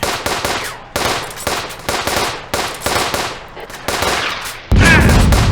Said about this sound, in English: Guys are firing at the street.